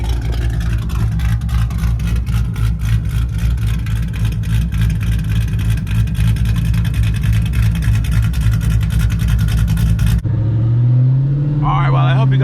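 A straight-piped, cammed 3V Ford Mustang V8 runs loud and close with a choppy, lumpy idle and pulsing revs, then cuts off abruptly near the end, leaving a brief quieter tail.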